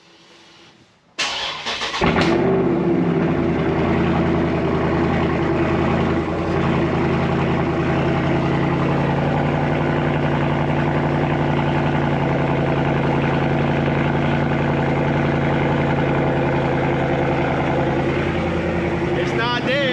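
A car is cold started after three weeks sitting: the starter cranks briefly, the engine catches with a loud rev, then settles into a steady, rumbling idle that runs on close to the microphone.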